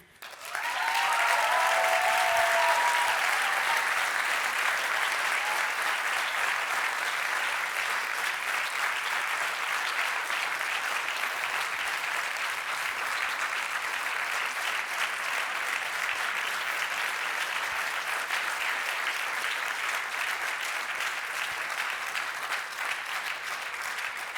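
Sustained applause from an audience at the POPRI 2022 award ceremony, a dense, steady wash of clapping that starts abruptly and carries on loudly for the whole stretch without fading much.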